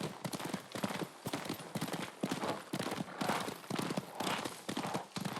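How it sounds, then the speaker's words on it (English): Horse galloping in the video game Ghost of Tsushima, a rapid rhythmic clip-clop of hooves, fairly close and moderately loud, heard alone. "Lord Sakai taught me to ride a horse."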